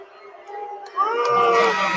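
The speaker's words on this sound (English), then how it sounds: "You can hear the crowd's reaction to that one." Crowd at a high school boys' basketball subregional title game reacting angrily to an offensive foul call, a short swell of voices that jumps suddenly halfway through into loud, sustained jeering.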